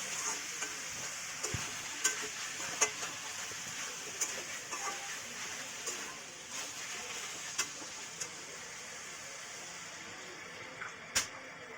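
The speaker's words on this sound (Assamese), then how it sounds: "পচলাখিনি দি মই ভালকৈ ভাজি লৈছোঁ" Meat, potato and banana stem fry in a pan with a soft, steady sizzle, broken by sharp clicks and scrapes as the mix is stirred now and then, quiet and close.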